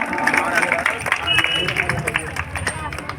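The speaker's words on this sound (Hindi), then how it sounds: "तालियां बजाइए, ईश्वर जी हमारे बीच में आ गए हैं।" Applause from a crowd at a political rally and Congress workers' meeting, a short spell of steady, moderately loud clapping mixed with crowd murmur.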